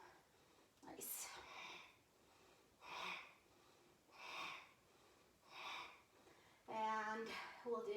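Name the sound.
deep yoga breathing, exhaling and inhaling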